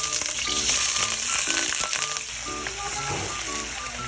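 Chicken pieces frying in oil until golden brown, a loud continuous sizzle and crackle close by, with faint tonal background music underneath.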